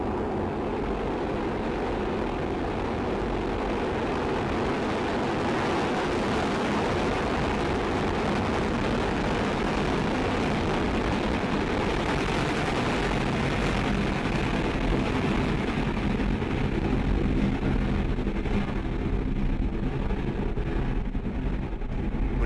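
A Soyuz rocket lifting off at night from French Guiana produces a continuous, powerful roaring rumble with steady crackling broadband noise that holds loud throughout and fades only slightly in its upper register near the end.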